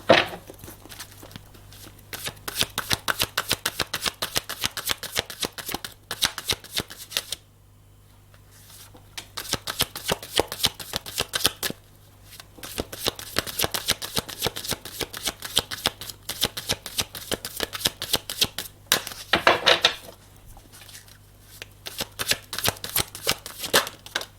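A deck of playing cards being shuffled over and over, with dense riffling bursts in quick rhythmic runs, a brief pause near the middle, then more shuffling, close and clear with no talk.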